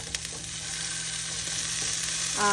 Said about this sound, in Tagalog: Igisa ko na lang yan. At mayroon ako dito jalapeno. Ilagay ko na yung sibuyas.